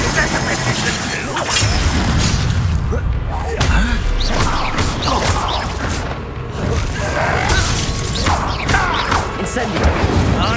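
Fire spells and combat effects from Hogwarts Legacy, the Incendio casting in a dense, loud stretch of booms, crashes and thuds that runs continuously under a voice.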